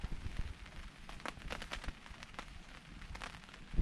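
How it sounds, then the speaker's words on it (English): Rain patters lightly and faintly on surfaces around a lakeside campsite with a hammock strung up, soft scattered drops and hiss continuing for a few seconds, ending in a closer bump. "We've had quite a bit of rain this afternoon, eh?"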